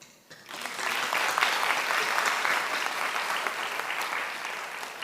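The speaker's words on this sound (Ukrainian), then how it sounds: "давайте щирими оплесками їм сьогодні подякуємо" An audience at a city Youth Day celebration breaks into sustained applause, many hands clapping in a dense, steady wash that swells quickly and slowly tapers.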